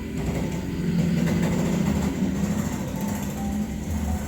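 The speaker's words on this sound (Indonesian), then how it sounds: "tuh motor ngeselin ya. Gak tahu apa nih lagi rekaman." Motorcycle engine passing outside, a steady loud low rumble holding throughout without letup, with no talk over it.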